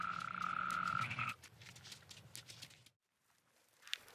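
Frogs croak in a steady, rapid chorus of pulsing calls outdoors, fairly faint, with a sustained whistle-like tone at the start before the calls continue more sparsely and briefly drop out.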